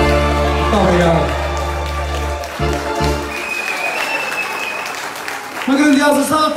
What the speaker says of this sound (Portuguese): Uma grandiosa salva de palmas para o nosso amigo Carlos